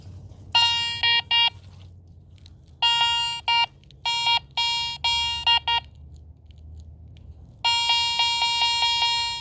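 Metal detector tones sound during a night coin hunt: bursts of bright, steady electronic beeps, some long and some clipped short, separated by brief gaps, with a low background rumble throughout.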